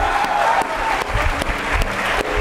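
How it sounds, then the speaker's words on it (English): Loud applause from a keynote audience at DAVV Indore fills the hall, a thick steady clapping from a large crowd, close and continuous throughout. "let's have a big round of applause for each and every one of you"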